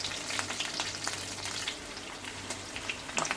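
Onions cooking in oil for makusa na lambi fubua give off a continuous close crackling sizzle, with scattered sharp pops and light clinks of a utensil through it and no speech.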